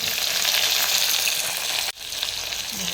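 Onions frying in hot oil for a biryani, a loud, steady sizzle filling the whole stretch, with a brief drop near the middle before the crackle resumes close and strong.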